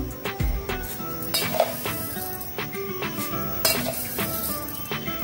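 A spoon clinks repeatedly against a pan while stirring halim seed kheer, sharp metallic taps at an uneven rhythm over a soft bubbling simmer.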